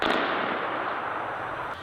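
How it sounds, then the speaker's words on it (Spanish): Continuous bursts of gunfire ring out during street protests in Tehran, a dense, steady crackle of rapid shots filling the whole stretch, loud and sustained with no voices on top. "se escuchaban disparos continuos de fondo"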